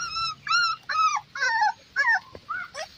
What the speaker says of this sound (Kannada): ನೋಡಿ, ಇದ್ರ ಆಟ ನೋಡಿ. ಇದು ಮೇಲ್ ಪಪ್ಪಿ, ಸ್ವಲ್ಪ ಕಿಟ್ಲೆ ಜಾಸ್ತಿ.